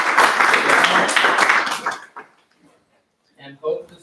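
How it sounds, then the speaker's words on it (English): Audience applause for the presenters at a GDG Zagreb tech meetup: a burst of clapping for about two seconds that stops abruptly, followed by quiet and a few scattered taps and sounds. "let's give a big applause to the boys and Marco and Nicola"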